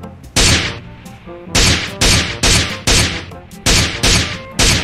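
Loud, close gunshots in the battle royale game PUBG Mobile, about eight heavy single booming shots fired at an uneven pace with brief gaps between them.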